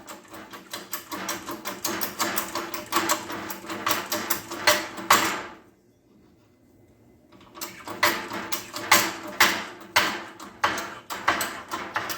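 A small socket pushes rear brake caliper pistons back in on a 2003 Dodge RAM 3500 dually, making a close run of fast metallic clicking and ratcheting, a short silent pause, then another burst of clicks.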